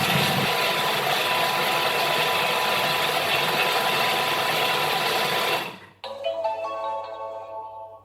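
A Thermomix food processor blends cake batter at speed 5, giving a loud, steady whirring drone for several seconds before it cuts off abruptly, leaving quieter clattering and faint tonal beeps afterward.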